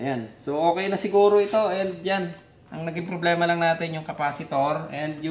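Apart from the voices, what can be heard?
No everyday noise stands out behind the speech.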